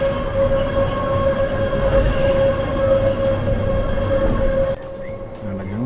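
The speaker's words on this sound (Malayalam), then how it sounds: "അങ്ങനെ താഴെയിൽ നിന്നുള്ള അടുത്ത വണ്ടി ട്രെയിൻ കയറി വരുന്നുണ്ട്." A Jungfrau railway train climbs the mountain in the Swiss Alps, giving a steady, loud rumble with a droning tone that drops away sharply near the end.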